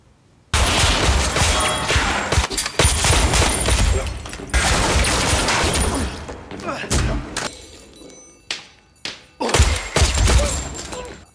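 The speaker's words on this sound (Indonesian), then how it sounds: "Mereka mulai saling menembak." Film gunfight with people shooting each other: loud bursts of rapid gunfire and heavy impacts fill most of the stretch, fading into scattered shots and thuds near the end.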